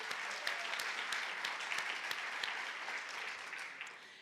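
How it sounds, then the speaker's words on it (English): An audience at a public event on California's aging plan gives a steady round of applause, with dense, even clapping throughout that is soft and somewhat distant and tapers off slightly at the end. "So please give them a round of applause."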